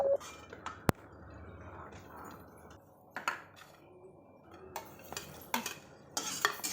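Cashews roasting in ghee in a pan for sweet sheera, with intermittent spoon scrapes and metallic clinks against the pan over a faint sizzle and a few brief sharp knocks.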